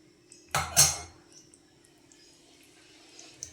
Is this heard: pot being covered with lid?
yes